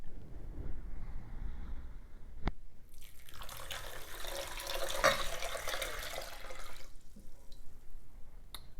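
Water poured from a container into a bowl of soil for an at-home soil test, heard as a soft, close splashing stream of a few seconds in the middle, after a sharp click, with quiet stillness on either side.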